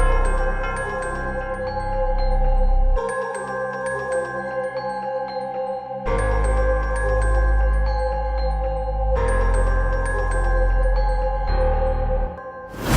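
Hip hop beat with a deep Omnisphere "drama wheel" sub bass following the root notes, looping in four-bar sections with the low end dropping out briefly between them, steady and full with no voices.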